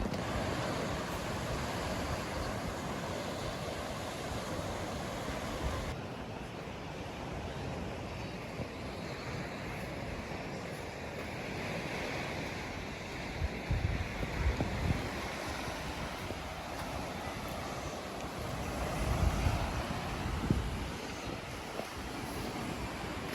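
Sea waves wash against the shore beside a reed-and-stretch-film beach hut, a steady broadband surf roar with wind buffeting the microphone and a few louder surges near the end; no one speaks.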